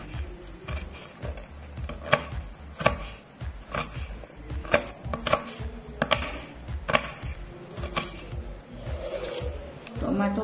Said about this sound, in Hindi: एबे कैप्सिकम को भी सेमिति सरू सरू करी काटी नेबी।